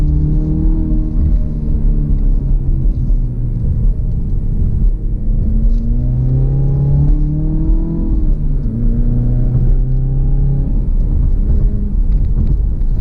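A 2017 Chevrolet Camaro's 2.0-litre turbocharged engine revs loudly and climbs in pitch as it accelerates, dips, then pulls hard again, roaring close and continuous.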